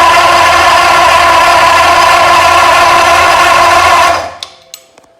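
A vintage engine on a run stand with old-school zoomie headers spins with a loud, steady mechanical whir for about four seconds, then winds down and stops, leaving a few faint clicks.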